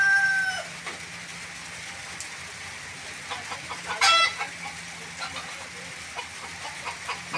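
A labuyo mestizo rooster with white, black-speckled feet clucks in short bursts, with a brief crow-like call near the middle, moderately close against a steady low background hum.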